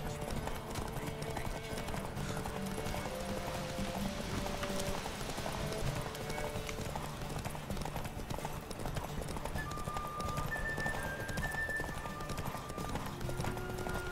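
Horse galloping in The Witcher 3, a steady, fast clip-clop of hooves that runs throughout at close range, with game music and faint voices underneath.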